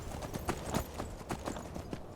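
Steady horse hooves clip-clopping at a trot in the video game Skyrim, a quick regular rhythm of soft thuds over a low rumbling background.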